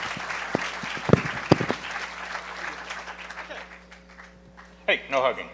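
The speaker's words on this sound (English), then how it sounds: "give them a big round of applause, Sandy and crew" Audience applause at a hacker conference talk on e-voting machines, a burst of clapping that fades after a few seconds, then someone speaks briefly into a microphone over a steady hum.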